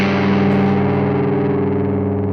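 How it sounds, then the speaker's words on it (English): Distorted electric guitar plays a dissonant flattened-fifth progression from a G root, with sustained, loud, buzzing chords ringing steadily and alone, with no voices. "the flattened 5th progression creates a dissonant or an ugly tone, especially with distortion"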